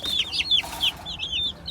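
Young broiler chicks in a small cage on a rooftop garden give a quick run of high, piping peeps, several chirps close together and up close.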